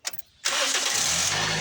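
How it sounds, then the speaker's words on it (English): A car engine cranks briefly with a few quiet clicks, then catches and settles into a steady, loud idle that holds to the end. "Turn on your ignition."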